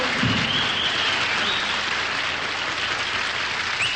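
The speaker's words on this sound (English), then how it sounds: "Can you applaud, please?" Studio audience applause at a variety show, a dense steady wash of many hands clapping at full strength throughout, near and loud with no pauses.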